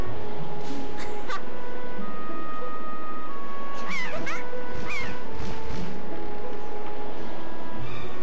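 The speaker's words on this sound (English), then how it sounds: "The giant bird returns!" A giant bird in The Legend of Zelda: The Wind Waker lets out a few swooping, shrill caws around the middle, mixed over continuous game music and ambience.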